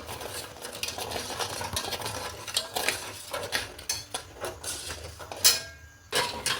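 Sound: stirring cardamom into sugar syrup

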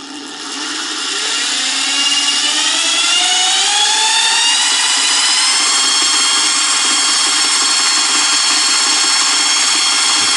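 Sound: DIY guitar pickup winder running at 1000 RPM

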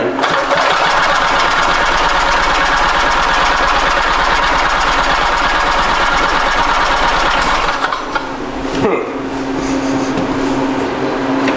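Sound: barn find Harley Davidson golf cart engine running

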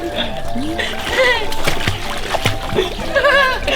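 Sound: water splashing as someone swims in a trampoline pool

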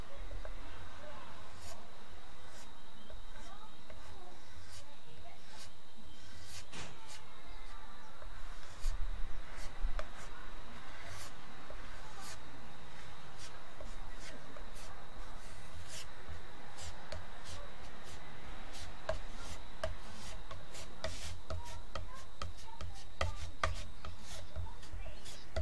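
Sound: spreading body filler on a Stratocaster body with a small spatula

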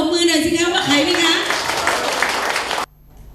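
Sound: crowd clapping at a rally

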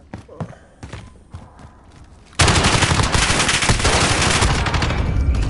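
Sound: gunfire from guns in a video game

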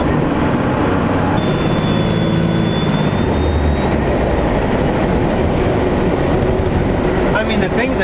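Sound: compound turbo 12 valve Cummins truck turbo spooling

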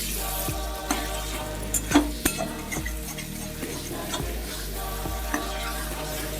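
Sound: stirring tomato fish curry in a pan

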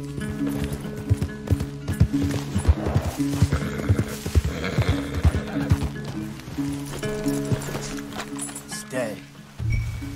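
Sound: horses walking in Red Dead Redemption 2 video game

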